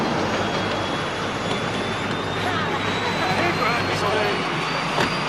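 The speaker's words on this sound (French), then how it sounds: "L'avion est là, venez." Airplane engines roar in a steady, broad rumble with a faint rising whine, continuous and fairly close, while people talk over it.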